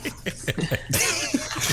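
A short, rough throat clear with a couple of gruff bursts, close to the mic, followed by noisy rustling.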